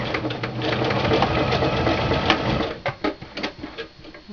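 A sewing machine runs a zigzag stitch along the seam of a Christmas stocking: a steady close mechanical whir that breaks into quicker, uneven bursts of needle clatter near the end.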